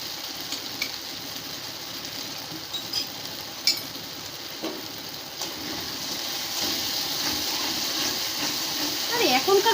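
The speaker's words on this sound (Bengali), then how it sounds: "এই যে তেল চড়বড় করে উঠছে না" Poppy seeds and chillies sizzle in hot oil in a kadai, a steady hissing crackle with small pops and spatters building louder toward the end.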